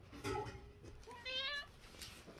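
A cat meows indoors, two short close meows with a rising drawn-out tone, fairly quiet, with no talk over it.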